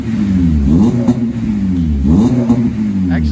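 A Honda Civic FN2 Type R with a sports cat welded into its exhaust revs repeatedly nearby, loud throaty blips rising and falling about three times in a few seconds with no talk.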